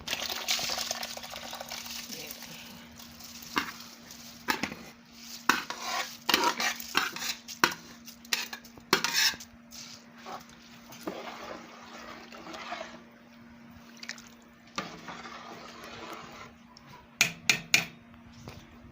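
Rice goes into a pot of boiling water for beef pulao, with a steady watery hiss under repeated metallic clinks and scrapes of a utensil against the pot, some sharp knocks near the end, and no talk.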